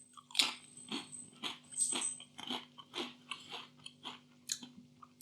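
Crunching of M&S mature cheddar and spring onion hand-cooked crisps, made by Kettle, sounds up close as about a dozen rhythmic bites and chews, crisp and loud in a quiet room.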